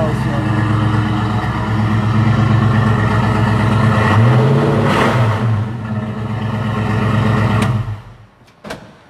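Loud V8 engine revving nearby, a sustained roar that swells mid-clip then drops away near the end, with brief voices heard over it.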